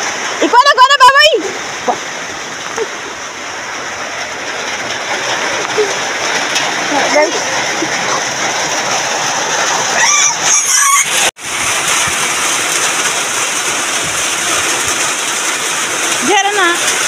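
Heavy rain hisses and splashes in a dense, loud wash at a chicken coop, with people talking over it and a few sharp crackles and gaps.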